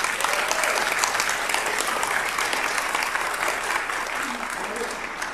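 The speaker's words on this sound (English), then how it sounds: "Give them a round of applause." An audience at a nonprofit community forum gives a sustained round of applause, a dense even wash of many hands clapping that carries steadily throughout.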